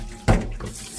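Tap water runs over dried pollock in a sink, a sudden short gush of splashing followed by a softer trickle, close by and brief.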